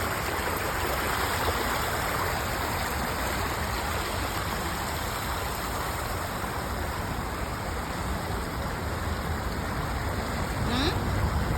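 Water from an artificial waterfall river at Katara Cultural Village rushes in a dense, steady roar, close and continuous throughout with no pauses.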